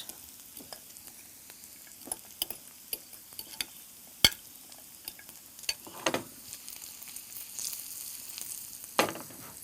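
Ingredients stirred and turned while roasting in a pan, seasoned with rock salt and regular salt for a healthy evening snack; a soft steady sizzle with scattered scrapes and clicks of a spoon against the pan, no voices.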